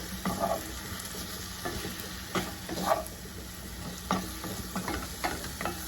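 Garlic sizzling in a pan with celery root and rosemary, a continuous frying hiss broken by repeated spoon-stirring scrapes and taps, close and fairly quiet, no voices.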